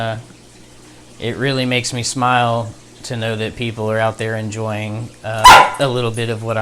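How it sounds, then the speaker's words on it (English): A dog barks in the background of a home aquarium room, a few sharp, brief yaps that are partly masked by someone talking steadily over them. "Excuse the dog there."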